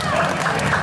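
A crowd watching a school parade for the 7 de Setembro celebration in Limoeiro, Pernambuco, claps in a continuous, loud wash of applause with no break.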